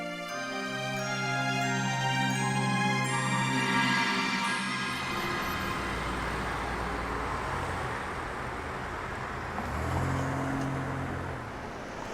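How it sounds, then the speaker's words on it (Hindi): A vehicle engine idles and then pulls away, a low rumble of road noise settling into a steady drone as the car moves off. "अरे हिना साहिबा, गाड़ी तैयार है, चलिए"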